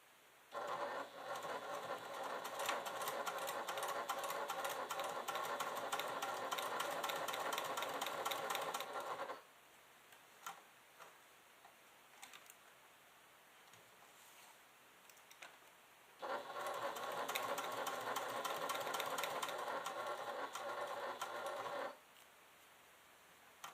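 A sewing machine backstitches a quilted leather clutch in two long runs of rapid, even stitching, with a quiet pause of handling sounds between them.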